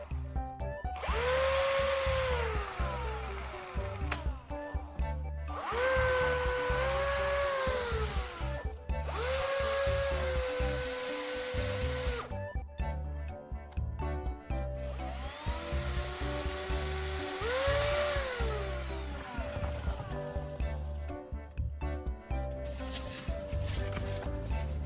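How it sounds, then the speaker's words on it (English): A power drill whirs in repeated long runs, spinning a wooden stick used as a knife sharpener, its pitch rising and falling, with a grinding tone and short pauses between bursts. "I'm going to attach the extra end of the wooden stick to a drill"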